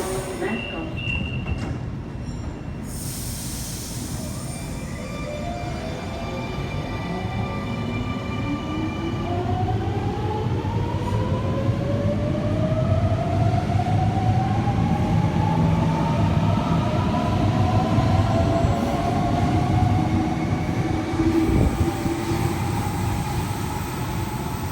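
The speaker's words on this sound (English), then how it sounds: "The train on platform 1 goes to City Circle via Museum." A Sydney Trains train at a platform, its motor whine falling steadily in pitch as it slows to a stop, with steady rumble and some wheel noise throughout, close and loud, no talk heard.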